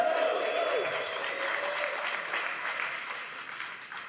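A crowd at an outdoor political rally claps steadily, the applause full at first and slowly thinning out, with a speaker's voice carrying over it.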